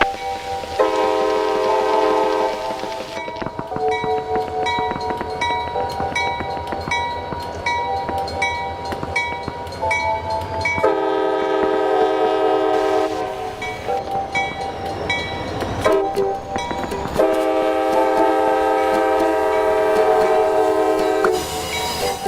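A train passes on the main track, its horn sounding loud and steady in long sustained blasts over rumbling wheels and rail clatter, close and continuous throughout.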